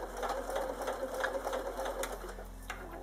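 Sewing machine topstitching fabric, a fast rhythmic needle chatter running steadily and close for the whole stretch.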